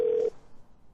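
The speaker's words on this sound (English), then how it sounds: "At the tone, please record your message." A single answering machine beep sounds, a short steady electronic tone lasting about a third of a second before cutting to quiet line hiss.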